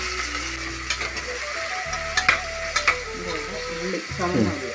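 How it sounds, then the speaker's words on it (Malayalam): Onions dropped into hot oil for a kappa biriyani, giving a steady frying hiss with several brief clattering ticks and a tonal hum running underneath, fairly close. "എണ്ണ ചൂടായി കിടക്കും അല്ലേ ആ അതിൻ്റെ അകത്തോട്ട് സവാള എല്ലാം കൂടെ എടുത്തിട്ട്"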